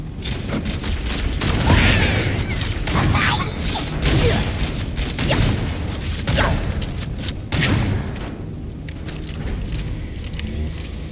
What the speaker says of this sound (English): Genuinely looks like the ship is blowing up.